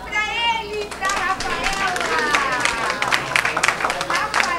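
A crowd at a raffle draw for Easter baskets claps in a busy, uneven patter. Children's voices and chatter mix through the clapping, and it stays moderately loud for a few seconds.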